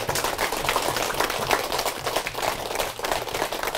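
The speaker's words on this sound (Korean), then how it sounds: "자, 우리 박수 한번 치겠습니다." Lecture audience clapping at a health talk, a fairly subdued but continuous patter of many hands with a slightly uneven, loose rhythm and no one speaking over it.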